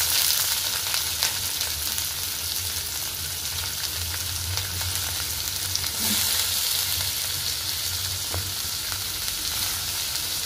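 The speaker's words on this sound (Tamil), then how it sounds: "எண்ணெய் நல்லா காஞ்சிருச்சு இப்போ கடுகு போட்டு தாளிச்சிக்கலாம்" Mustard seeds tempering in hot oil for squid gravy make a constant close frying hiss with scattered small pops and crackles, loud and unbroken, with no voices.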